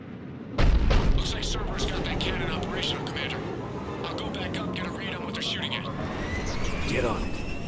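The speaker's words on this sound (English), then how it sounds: "Looks like Cerberus got that cannon operational, Commander." A Cerberus cannon firing in Mass Effect 3: one heavy, close blast followed by a rumbling battle din with whooshing sweeps. Voices talk throughout.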